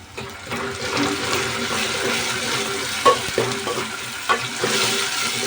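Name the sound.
onions and tomatoes sautéing in a pan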